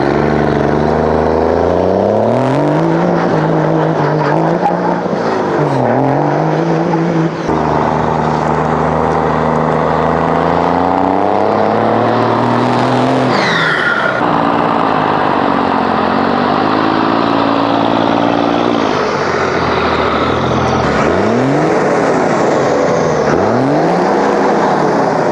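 Diesel pickup truck running on its stock exhaust, before a 5-inch turbo-back system is fitted, comparing Powerstroke and Cummins engines; a steady loud engine drone with rising and falling revs throughout, close up with no talking.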